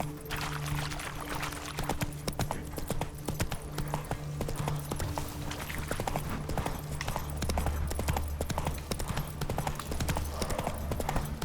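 Hoofbeats of a galloping horse in The Witcher 3: Wild Hunt drum steadily and close for the whole stretch, layered over game music with a low rumble building later.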